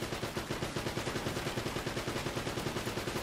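Enemy automatic gunfire in Uncharted: Drake's Fortune, a steady rapid stream of evenly spaced shots running throughout, fairly faint and distant.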